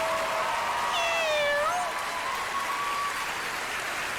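A person imitates a cat's meow with a few drawn-out, wavering mews over sustained applause at a celebration event, the applause rolling on after the imitation stops.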